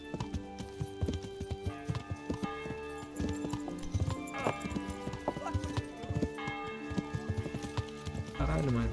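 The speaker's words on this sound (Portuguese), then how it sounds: "o cavalo surtou" In the medieval video game Kingdom Come: Deliverance, a horse's hooves clatter in uneven, agitated bursts with snorts and a neigh near the end, close and prominent, while a person talks over parts of it.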